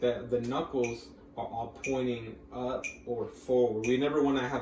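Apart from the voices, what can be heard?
No everyday noises stand out.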